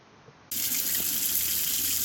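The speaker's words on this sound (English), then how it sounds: "I've got the water going." Warm tap water switched on for cleaning vape coils, gushing suddenly after a brief quiet moment and running steadily into a sink, close and fairly loud with no voice.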